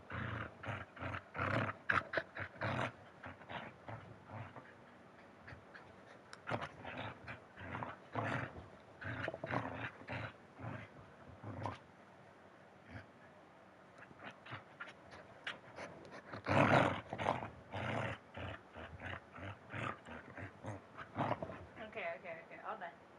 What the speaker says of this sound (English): Oh, maybe you want to hear the dog.